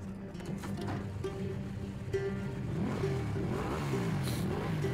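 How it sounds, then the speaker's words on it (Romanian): Motorcycle engine in Wolfenstein 2 revving steadily under game music, a continuous mid-pitched drone that rises in pitch, fairly loud and close throughout. "Ce motor șmecher."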